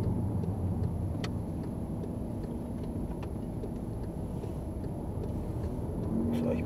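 A car drives through the Swiss village of Utzigen in Vechigen, canton of Bern, in October, heard from inside as a steady low engine and road rumble with faint occasional ticks throughout.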